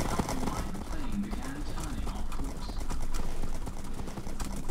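Horse hooves clopping in Minecraft, a steady, dense clatter heard close throughout with game music and other noise in the background.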